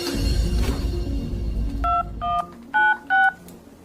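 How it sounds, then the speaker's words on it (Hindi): Telephone keypad dialing tones, a short run of about four distinct beeps, clear and close, following a low rumbling background. "चल तू फोन लगा, मैं भी तो देखूं है कौन ये।"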